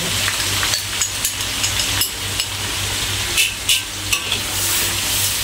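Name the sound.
sautéing in a pan for ikan kembung masak kicap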